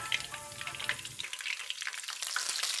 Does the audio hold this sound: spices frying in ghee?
yes